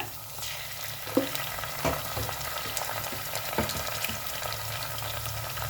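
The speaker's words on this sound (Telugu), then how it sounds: "ఇప్పుడు జింజర్ గార్లిక్ పేస్ట్ వేసుకుందామమ్మా. 1 స్పూన్ వేసుకుందాము." Ginger garlic paste sizzling and frying in a pan while cabbage fry is cooked, a steady close crackle with occasional stirring clinks and scrapes, no talk.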